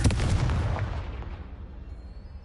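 A fiery Confringo spell blast in Hogwarts Legacy lands with a loud, heavy explosive boom that rolls off and fades away over two seconds.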